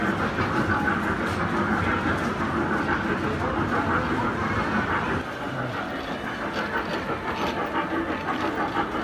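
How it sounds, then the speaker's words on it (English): Small ride-on train at a family outing rolling along steadily, a continuous rumbling clatter with rail-like clicks and a slight hiss, fairly close and even throughout. "The train's gonna go."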